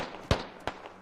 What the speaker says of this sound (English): There's the nade. Boom.